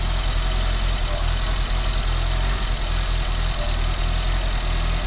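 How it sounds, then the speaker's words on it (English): A Renault 9 car engine runs steadily at idle, a continuous close, loud drone with a faint uneven knock underneath and no talking. "I'm now going to run the engine, and hopefully the alternator is doing its job"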